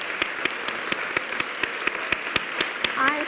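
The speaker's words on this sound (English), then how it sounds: "I have to stand up and clap for you" Audience applause at a live author event at the Chicago Lit Fest, steady crowd clapping with sharp individual claps standing out, and a voice breaking in near the end.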